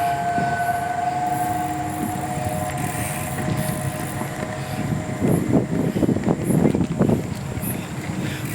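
A train rumbles past during a short ride, with heavy rail clatter building toward the end and a horn sounding, while people talk nearby.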